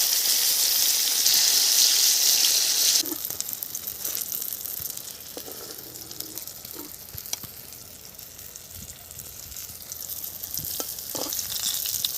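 Eggplant slices frying in hot oil in a rural kitchen, a loud steady sizzle at first that drops to a quieter crackle with scattered pops and stirring scrapes, no talk.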